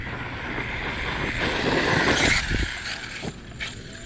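An Arrma Outcast 6S RC car fitted with Kraton 4S wheels drives and jumps outdoors, its electric motor whining and rising in pitch under gusty wind noise, with a few thumps of landing and gravel.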